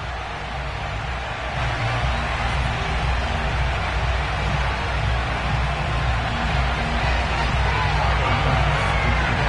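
Sold-out stadium crowd in a Madden 22 NFL football game between the Bills and the Miami Dolphins, a steady broad roar of cheering and babble that holds loud and continuous throughout.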